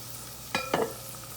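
Onion, carrots and celery sautéing in a soup pot, with two quick stirring scrapes over a low, quiet sizzle, close and brief, no talking.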